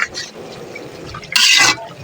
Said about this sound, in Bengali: মাংসটা কষাইতেছি।